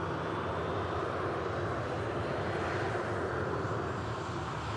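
An Icelandair Boeing 757 airliner with a hybrid special livery comes in to land at Manchester Airport, its jet engines a steady, loud, broadband roar that holds throughout with no voices over it.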